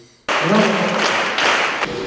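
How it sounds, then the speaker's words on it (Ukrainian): An ovation erupts suddenly in a concert hall after a performance by blind musicians: dense, loud applause that starts abruptly after a brief quiet moment and sustains steadily, with faint voices mixed in. "І овації в залі"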